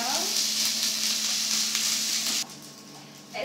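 Rice mixed with tomato sauce for a rice omelette, stirred while frying in a pan, giving a loud steady sizzle with scraping strokes that drops away sharply near the end.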